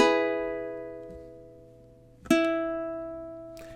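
Ukulele playing measure 8 of a song: one plucked note ringing and slowly fading, then a second note struck near the end and sustaining, played solo and close.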